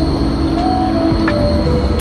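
A train passes close by with a loud, steady rumble and roar of wheels on rails, faint high squeals riding on top throughout.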